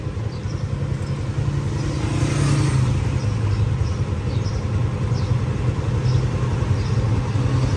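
An auto rickshaw driving through Multan, its engine putting out a steady low rattling drone with a slight rise in revs midway and faint traffic sounds in the background.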